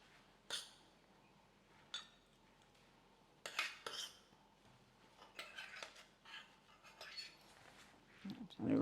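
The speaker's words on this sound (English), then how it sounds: "So I have the garlic here. See if I could scoop it up." A spoon scoops minced garlic for ground beef bulgogi, giving a few soft, scattered metallic clinks and scrapes against a container, close and faint, with quiet gaps between them.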